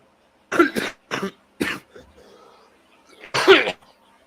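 Four or five sharp, hoarse coughs close to the microphone, with a brief pause of faint rustling before a final heavy cough.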